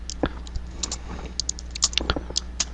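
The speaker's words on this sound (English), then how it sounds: "So let's just type down the name." Someone types a parameter name on a computer keyboard: quick, irregular key clicks close by, some keys tapped in short clusters, with no talking over them.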